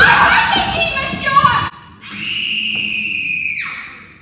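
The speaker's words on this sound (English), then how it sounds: "I'm sure I just heard a woman's voice screaming in here." A woman's high, sustained scream with a strong whistle-like tone rings out for about a second and a half after a burst of noisy commotion from several voices, set in a school drama staged at a manor house.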